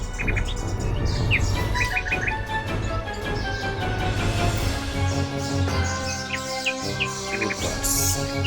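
Birds chirping steadily, with quick bursts of bright tweets repeating in short clusters over a dense, continuous layer of background birdsong.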